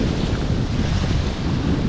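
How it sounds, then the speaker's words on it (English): Strong cold wind buffets the microphone on a freezing lake shore during a public-land duck hunt, a loud, continuous rushing roar with no voices. "That wind is blowing"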